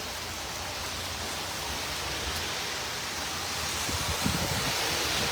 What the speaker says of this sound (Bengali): পুরা ঝুম বৃষ্টি এখন।